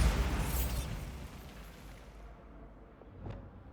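A Bombarda blasting spell detonates in Hogwarts Legacy, a loud near explosion with a crackling, rumbling tail that fades over several seconds, then a smaller pop near the end.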